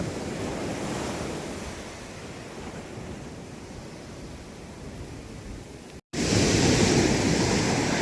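Ocean waves wash steadily onto the rocky shore of Katchal Island, a continuous loud surf roar with wind noise on the microphone, briefly cut out before resuming even stronger.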